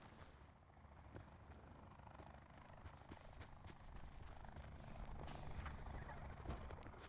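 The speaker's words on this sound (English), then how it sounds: "We can hear a helicopter in the distance." A distant helicopter in a battle royale video game, a faint, rough rotor rumble that grows slightly louder over seven seconds against a low background hiss, with a few small clicks.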